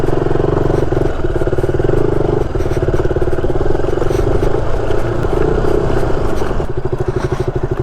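Motorcycle riding on a windy road near Hosahalli Betta and Patlabetta hills, with a steady, loud engine drone and rhythmic pulsing throughout, heavy wind rumble mixed in, no talking.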